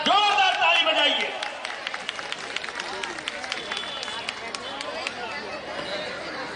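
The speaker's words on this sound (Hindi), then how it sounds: "जोरदार ताली बजाइए।" Crowd at a rally clapping, a scatter of sharp claps building into steady applause mixed with chatter and murmuring voices, after a raised voice at the start.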